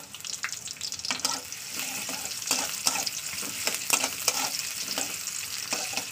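Onion sizzling and frying in hot mustard oil while being stirred, a steady close crackle with occasional scraping strokes throughout.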